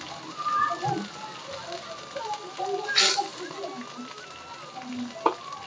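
Masala spices and salt sizzling in a pan while being roasted for a large fish dish, a steady fry with occasional stirring scrapes and a brief sharp clatter near the end, with talk over it.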